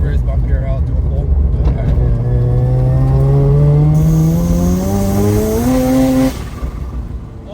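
A rotary-engine Subaru BRZ running 10 pounds of boost pulls hard through the gears on a ridealong, its loud engine note climbing steadily in pitch for several seconds before a shift, with people talking over it inside the car.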